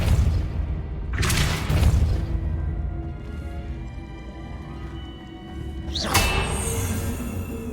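Depulso spell cast in Hogwarts Legacy, a loud booming whoosh followed by a rumbling tail and then a second sharp burst, over steady game background sound.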